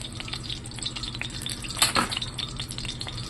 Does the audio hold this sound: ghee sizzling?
yes